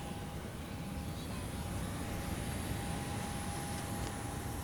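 Steady broadband airplane cabin drone at night, a constant engine and air hum with a faint tonal whine running throughout, no talking.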